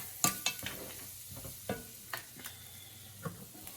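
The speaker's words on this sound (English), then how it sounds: "Turn the heat up a little. Let my butter melt just a little more." Butter melting and sizzling in a hot pan while being stirred, a soft bubbling sizzle broken by several sharp utensil scrapes and taps against the pan, close and fairly quiet with no talk.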